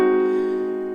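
A German augmented sixth chord in 6-5 position sounds as one sustained, clear chord struck once and slowly fading over about a second, with nothing else heard.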